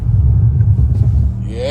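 A deep, throaty V8 engine of a 700 hp drift car rumbles steadily up close, with a brief rise in tone near the end.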